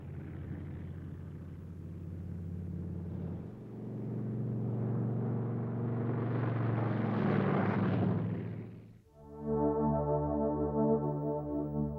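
A drone aircraft descends to land, its steady engine rumble building and swelling to a loud peak, then cutting to a lower, pulsing propeller drone at close range with no talk.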